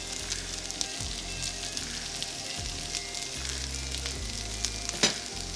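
Green chili, turmeric and chili powder sizzle in hot oil in a pan while red lentil dal curry is cooked, a steady close crackle with soft stirring scrapes and a sharper pop near the end.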